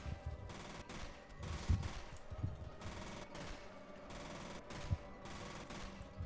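Pistol shots in the shooter game F.E.A.R., a string of fairly quiet, sharp reports at uneven intervals over dull background game noise.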